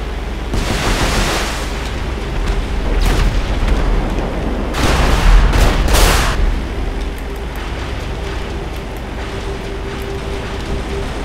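Explosions boom in the GTA 5 WW2 mod over a constant roar, likely from a Hellcat fighter's engine, with several heavy, deep blasts bunched in the middle and no talk.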